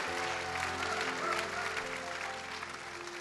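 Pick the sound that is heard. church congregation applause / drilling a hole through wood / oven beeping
church congregation applause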